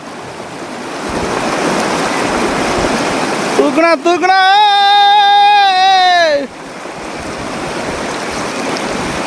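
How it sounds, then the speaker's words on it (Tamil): Fast-flowing river water rushes steadily throughout, a broad close wash of noise, partly interrupted midway by a loud tonal whine with rising harmonics; people speak briefly over it. "இடம் பாருங்க எப்படி ஓடிக்கிட்டு இருக்குன்னு தண்ணிக்கு பாருங்க"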